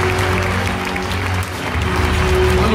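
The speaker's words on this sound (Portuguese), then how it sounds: "Uma salva de palmas, gente." Sustained audience applause fills a large indoor event hall in Brazil, loud and steady throughout, with a low hum beneath and no clear talk over it.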